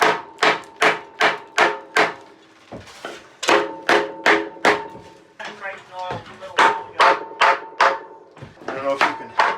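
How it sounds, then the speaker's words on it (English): Repeated sharp metal hammer blows on a sailboat mast fitting during mast removal, struck in quick rhythmic bursts of several strikes with short pauses, close and loud, with occasional talk between. "now let me get a hammer."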